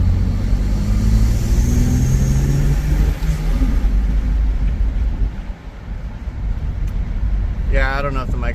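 A car's B58 engine fitted with a titanium intake pulls hard up a highway on-ramp, a loud sustained low drone and rumble that swells and eases, with road noise and a brief voice near the end.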